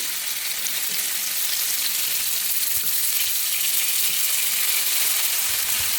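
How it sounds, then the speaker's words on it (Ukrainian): Bacon frying in a pan, giving a steady, dense hiss and crackle of fat that carries on without a break, close and fairly loud, with no voices over it. "обсмажуємо бікончик"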